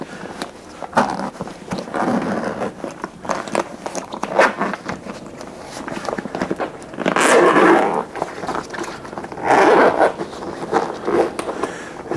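Close-up rustling, crackling and clicking as a plastic Vulcan Arms WeatherLock waterproof case is handled and pried open, with a few louder bursts of scraping.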